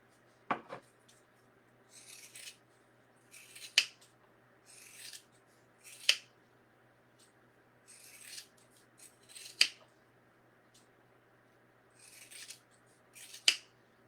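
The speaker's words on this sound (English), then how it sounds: "you want a good pair of scissors while you're doing this" Fabric scissors snip through material in a series of crisp, sharp cuts, each preceded by soft sliding and rubbing, spaced a few seconds apart in a quiet room.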